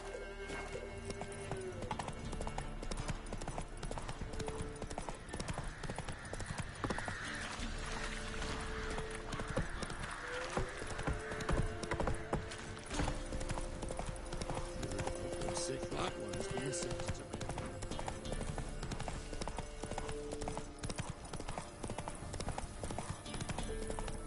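Horse hooves clip-clop steadily in the Witcher 3 video game, a continuous trotting rhythm with a brief whinny, someone talking over it and game music running underneath.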